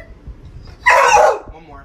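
A single loud, sharp bark from a dog told to bark on command, set against quiet background noise.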